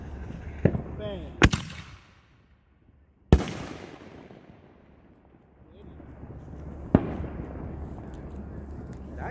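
A homemade firework fired from launch tubes braced with a cinder block, sounding as a few sharp, loud bangs with long fading rumbles and quiet stretches between them, with people nearby.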